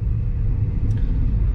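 Road traffic in Kudal during the Ganesh festival rumbles steadily from inside a moving car, a loud continuous low engine and tyre drone with a faint brief tone near the middle.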